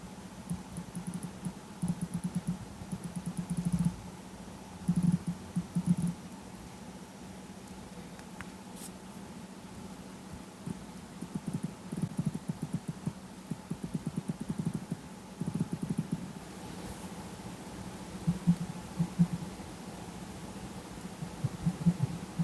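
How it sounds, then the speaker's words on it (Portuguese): Vibration motors of a Samsung Galaxy Watch Ultra and a Galaxy Watch 5 Pro buzzing in repeated short bursts, a low rattling hum pulsing on and off with quiet gaps between, close and fairly faint. "para vocês perceberem a diferença no motor de vibração"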